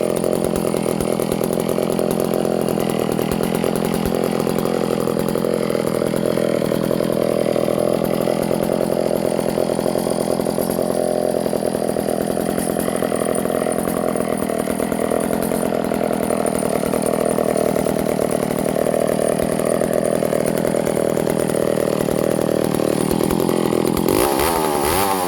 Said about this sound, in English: She is, guys, the McCulloch 300 80cc chainsaw.